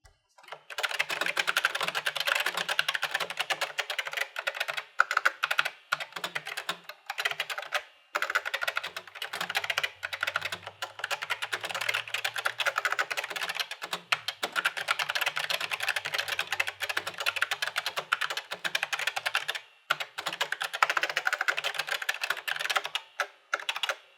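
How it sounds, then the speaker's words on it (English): Fast, steady clacking of a fully mechanical keyboard on a vintage Leading Edge 486 computer, typed on up close, crisp key strikes in continuous bursts with brief pauses, no voices. "So we're dealing with a fully mechanical keyboard here."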